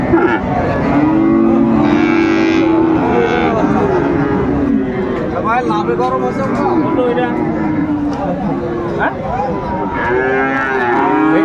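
An 11-month-old Friesian bull calf moos repeatedly at a busy cattle market in Dinajpur, loud and close, over steady crowd babble and nearby voices talking.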